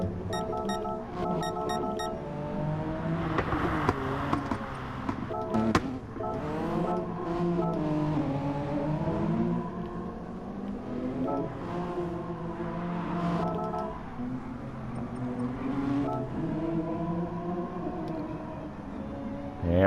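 Race cars at Laguna Seca in the racing game Gran Turismo Sport, engines droning and whining through rising and falling gear changes for the whole stretch, loud and close with several cars running together and a few beeping tones early on.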